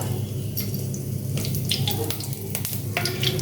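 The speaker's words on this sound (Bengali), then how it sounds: "তেল গরম হয়ে গেছে তেলের ভেতর আমি এখন সারটা কাঁচা লঙ্কা দিয়ে দিব" Whole green chillies hit hot mustard oil and sizzle steadily with crisp popping crackles, close and loud throughout, with a faint voice underneath.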